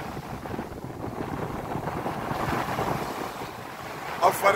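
Steady wind blowing over open water, a continuous broadband rush with faint wave wash, plus a couple of brief louder bumps near the end.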